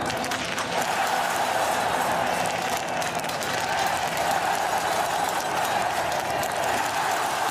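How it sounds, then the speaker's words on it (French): A large outdoor crowd cheers steadily at the Oslo Holmenkollen women's biathlon relay, a dense, continuous roar of voices and clapping that holds at an even loudness throughout. "vous avez entendu hein, les vivas de la foule"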